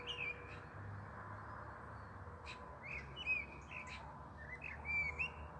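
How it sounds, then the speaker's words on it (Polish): Small birds chirp and tweet in scattered bursts in the evening after sunset, against a steady low background hum, fairly faint and distant. "A ptaszki mi śpiewają."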